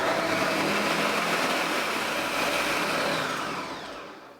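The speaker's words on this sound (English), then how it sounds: "we are going to put them in the blender with 1/4 cup of water" A blender purees black beans with a quarter cup of water, a steady loud whir running without a break for about four seconds before it trails off at the end.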